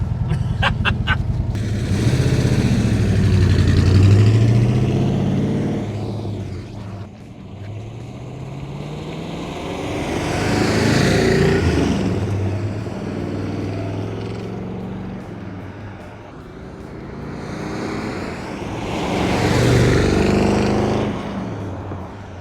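A 1967 Plymouth GTX with a Hemi big block V8 rumbles past in a driving flyby, the engine swelling loud as it nears and fading away, then rising again in further close passes.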